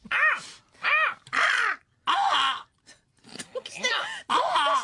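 A voice imitates a crow, giving a string of harsh, drawn-out caws with short pauses between them, up close and fairly loud.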